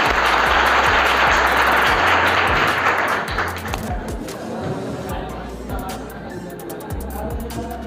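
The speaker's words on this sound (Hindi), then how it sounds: "जोरदार तालियों से स्वागत किया जाएगा" A crowd at a Teachers' Day celebration breaks into loud, dense applause that fills the first few seconds, then gradually thins into scattered claps and murmuring voices.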